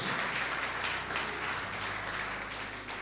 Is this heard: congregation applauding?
yes